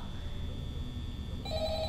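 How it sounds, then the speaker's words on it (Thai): A mobile phone rings inside the Five Nights at Freddy's horror game, a faint electronic tone that grows brighter near the end, heard under low background hum and murmuring. "เสียงมือถือไม่ดังหรอยี่ใครโทรมาวะ"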